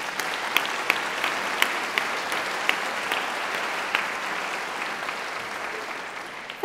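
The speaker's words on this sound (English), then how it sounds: "And I think you all deserve a round of applause too." An audience at a British documentary awards ceremony applauds in a steady, sustained round of clapping with a few sharper individual claps standing out, and no talk over it.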